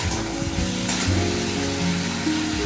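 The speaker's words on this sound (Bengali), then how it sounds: "এই দেখো আমি ভালো করে একটু মশলার সাথে কষিয়ে নিচ্ছি সবজিগুলো" Vegetables are sautéed with spices in a pan, a close steady frying hiss with a faint tonal hum running underneath and no voices.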